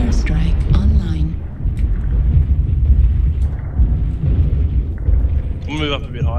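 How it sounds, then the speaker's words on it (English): Deep, rumbling airstrike explosions from a military video game roll on continuously, loud and heavy, with people talking over them throughout. "Airstrike online."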